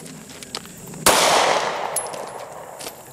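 A single sharp, loud gunshot-like crack followed by a long hissing decay, with a few faint clicks and pops around it and no clear voices.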